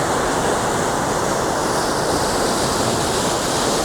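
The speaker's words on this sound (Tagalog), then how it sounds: "malakas yung agos" Irrigation water rushes strongly through a canal check gate in a steady, loud, continuous roar, unbroken throughout with no voices.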